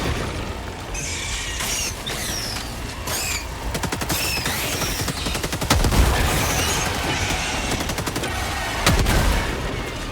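In the video game Helldivers 2, rapid gunfire crackles in dense overlapping bursts, joined by heavier booms of a grenade explosion, with a busy, loud mix throughout.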